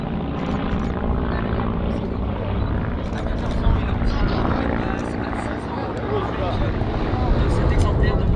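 A 1930s Bücker biplane buzzes past at an air show, its propeller engine droning steadily through the whole stretch while an announcer talks over it.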